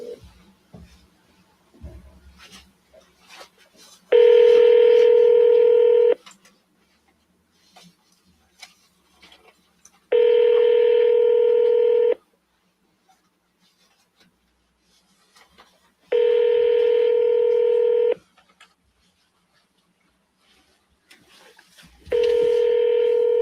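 Several bursts of telephone keypad dialing tones, about two seconds each, repeat at regular intervals with near silence between them and faint background clicks.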